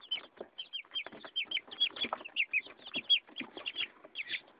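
A rooster clucks repeatedly in short, rhythmic bursts, close and clear, with brief gaps between calls and no talking.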